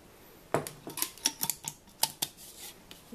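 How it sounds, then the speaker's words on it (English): A lid being screwed onto a glass soup gift jar filled with turkey noodle soup mix: a run of about a dozen short, close clicks and scrapes of lid against glass, no talk. "So we'll go ahead and put our lid on"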